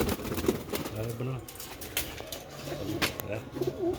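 Sialkoti silver pigeons coo in soft, repeated low throaty calls close by, with a person talking over and between them.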